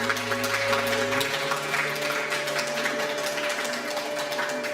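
A church congregation claps together during a Sunday worship service in a steady, sustained wash of applause, with a low hum underneath that drops away early on.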